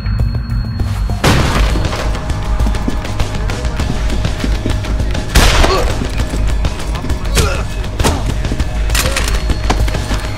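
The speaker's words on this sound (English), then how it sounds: "Gunshots!" Gunfire in the Deus Ex: Human Revolution video game: a few loud, sharp shots ring out at irregular intervals over a dense, rumbling background of game ambience and effects.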